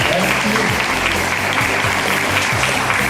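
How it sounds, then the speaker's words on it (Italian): An audience at a school open day applauds students from Lombardo Radice in Catania, a loud, dense and continuous round of clapping from a sizeable crowd with no break. "un applauso ai nostri ragazzi del Lombardo Radice"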